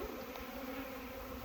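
Honeybees buzz around an open hive during a spring inspection, a faint, steady insect drone with no talking.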